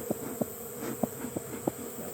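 Bees buzz steadily in a constant drone, with soft bumps and taps now and then underneath; no voices.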